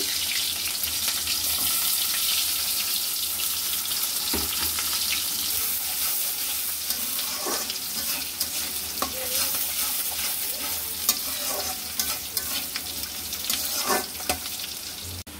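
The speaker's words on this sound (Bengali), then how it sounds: "পেঁয়াজ আর রসুন ভাজা হয়ে গেছে" Chopped onion and garlic sizzle steadily in hot oil in a home kitchen, with a continuous frying hiss broken by intermittent stirring scrapes and clicks of a utensil against the pan.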